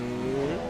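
Racing car power sliding around a corner in a racing video game on a night Monaco circuit, a brief, close engine note that rises and then bends downward as the car slides.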